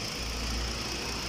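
A Kia Cadenza engine idles steadily right after an oil change, a close, even mechanical hum with a low rumble and no talking over it.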